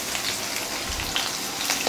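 Three or four cloves of crushed garlic frying in a pan for tomato kurma, a steady close sizzle with faint stirring, no voice.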